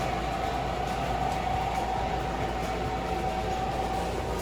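A Lionel Pennsylvania model train runs steadily on its track, giving a continuous close rumble with a faint, even whine that holds for the whole stretch and carries no talk.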